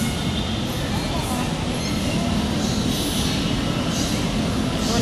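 An LRT train pulls into Balintawak station with a steady, loud rumble of wheels and motors, a continuous roar that fills the platform and carries faint high squeals on top.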